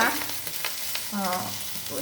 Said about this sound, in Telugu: చక్కగా ఈ పోపు ఇలా వేగింది కదా